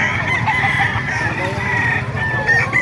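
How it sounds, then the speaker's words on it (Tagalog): Roosters crow and chickens cluck nearby at a poultry market in Bocaue, Bulacan, several calls overlapping against a steady background murmur. "Ayun pa yung mga manok kaibigan natin o."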